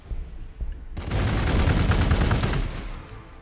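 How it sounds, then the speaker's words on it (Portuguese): Gunfire in the Warhammer 40k Gladius strategy game, with Adepta Sororitas units firing on a portal: a dense, sustained volley breaks out after a quiet second and rolls on loudly for about two seconds before tapering off. "Eu vou atirar no portal"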